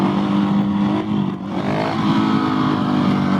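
A Husqvarna 701 or KTM 690 single-cylinder motorcycle pulling in second gear at low speed, a close, loud, steady engine drone that dips briefly and then builds again as it accelerates.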